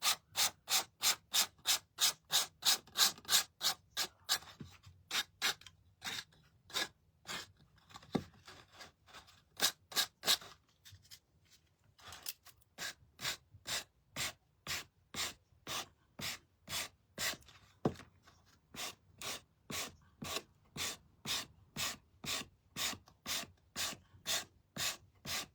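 Steady rhythmic scraping as paint is chipped and sanded off a painted wooden peep figure, dozens of close, even strokes with brief pauses, loud and alone.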